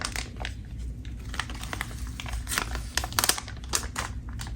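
Plastic sticker sheet for a bazooka bubble gun being handled up close, giving soft irregular crinkles and sharp papery clicks and rustles, with no talking.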